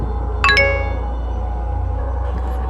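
A phone gives a short two-tone chime to warn that its battery is down to 2 percent, bright and clear over a low steady hum, then silence.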